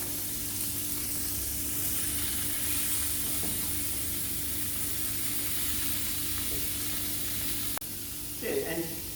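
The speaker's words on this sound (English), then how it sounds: "Brown your meat first." Minced meat browning in a warm pan, a steady loud sizzle throughout, close, with a few stirring scrapes and a short clunk near the end.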